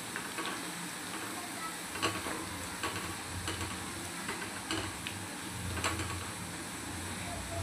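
Onions softly sizzling in a pan for Bihari chicken curry, a quiet, continuous frying hiss with occasional light scrapes and taps from stirring.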